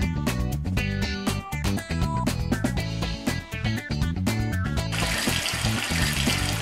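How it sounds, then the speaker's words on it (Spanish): Water runs from a tap in a steady splashing stream during handwashing in a children's hospital surgery game, heard alongside busy electronic game sounds and music. "Enciende el grifo para eliminar la espuma."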